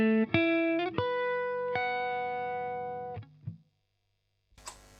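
An electric guitar runs through an EarthQuaker Devices Astral Destiny pedal, playing a progression of fifths. Bright, shimmering sustained chords ring out with a modulated, octave-rich wash, then decay and cut off before a brief burst at the end.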